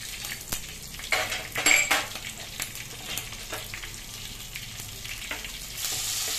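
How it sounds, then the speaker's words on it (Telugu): Crushed garlic, ginger and green chillies fry in hot oil with a steady close sizzle. Intermittent metallic clinks and scrapes of a spoon against the pan come through, and the hiss swells louder toward the end. No one speaks. "ఆయిల్ మరిగిందండి వెల్లుల్లి వేస్తున్నాను చిదకొట్టినవి కొద్దిగా ముందు కొద్దిగా అల్లం వేస్తున్నానండి పచ్చిమిర్చి వేస్తున్నానండి"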